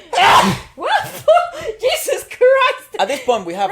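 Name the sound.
sneeze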